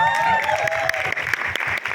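Loud, dense applause from an audience at a film trailer launch for debut actor Chaitanya Chaudhary, with rapid overlapping claps that stay steady throughout and a bright tone lingering in the background.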